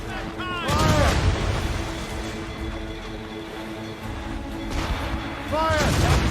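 Ship cannon fire in Assassin's Creed Rogue during a naval battle, with heavy booming volleys near the start and again near the end, and voices and ambient battle noise between them.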